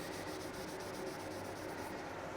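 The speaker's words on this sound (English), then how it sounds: "I just want to show you the sanding of this though" Steady, close rubbing and scraping of a soft sanding sponge on painted plastic, a continuous soft hiss with faint rhythmic strokes and no talking.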